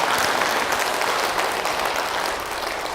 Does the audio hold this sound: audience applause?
yes